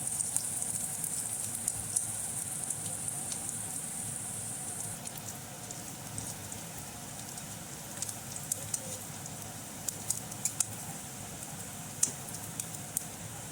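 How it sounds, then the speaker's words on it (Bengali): Onions and green chillies fry together in hot oil in a pan for Bengali aloo chop, giving a quiet, continuous sizzle with scattered sharp pops and spits that grow more frequent toward the end. "এবার পেঁয়াজ আর কাঁচা লঙ্কাটাকে একসঙ্গে ভাজা হবে।"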